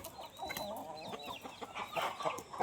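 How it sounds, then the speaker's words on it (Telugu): Top-quality Bobbili breed roosters cluck and call in a steady busy chorus, with several overlapping birds heard close by and no talking. "మంచి టాప్ క్వాలిటీ గల పుంజు వరుగులండి."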